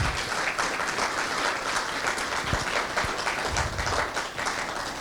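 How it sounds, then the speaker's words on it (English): Sustained applause from an audience at a Utah LGBTQ+ economic summit, dense steady clapping filling the room for several seconds with no voices on top. "So that deserves its own round of applause."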